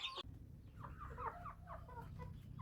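Native chickens and Shamo roosters in a backyard coop, clucking in short, close bursts over a low background hum.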